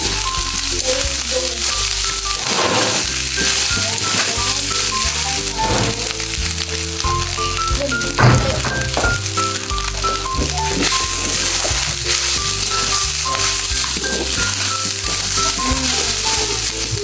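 Garlic fried rice (sinangag) frying in a pan, a loud continuous sizzle with crackles and a clatter of the utensil against the pan, no talking.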